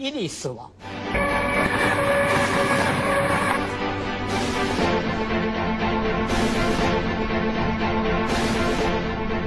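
Lhasa Express passenger train crossing the high Tibetan plateau, a steady loud rolling rumble with rhythmic wheel-on-rail clatter and sustained tonal hum that starts after a brief pause and continues throughout.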